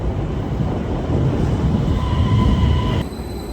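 A train rumbles loudly and steadily at a Swedish railway station platform, with a thin metallic squeal rising over the low roar near the end.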